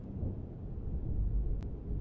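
Low rolling thunder from a brewing storm in an anime scene, a steady deep rumble that fills the whole stretch, with a brief hissing flicker near the end.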